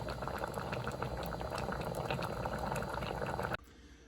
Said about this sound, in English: So now we boil these for 5 minutes in some water.